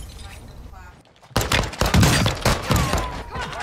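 Loud gunfire in a multiplayer video game shooter: a dense burst of rapid shots after a brief lull, with a player talking over the action.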